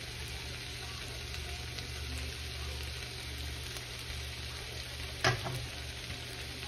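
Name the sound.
garlic sizzling as it is added to the pan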